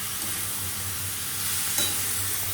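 Chopped banana stem is sautéed in a pan with cumin and ginger, making a soft, even sizzle and hiss close by, with a low hum underneath and no talking.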